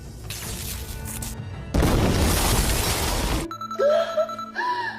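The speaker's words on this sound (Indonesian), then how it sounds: "di situ akan terjadi sebuah ledakan" A loud, roaring blast bursts in partway through and rumbles for a couple of seconds, then cuts to quieter tonal sounds.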